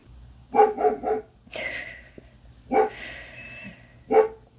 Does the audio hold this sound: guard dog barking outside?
yes